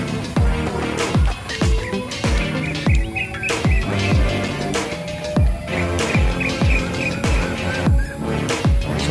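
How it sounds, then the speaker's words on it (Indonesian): Birds chirp and tweet in a park in Setia Indah, Johor, Malaysia, with faint scattered calls under a steady rhythm of close, thudding jogging footsteps. "Suara-suara burung"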